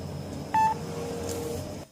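A single short telephone dialing tone sounds clearly over a low hum of background noise, followed by a faint blip before the line goes quiet, with no voices.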